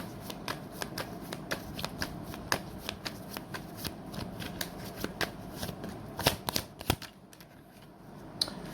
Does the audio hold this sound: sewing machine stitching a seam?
no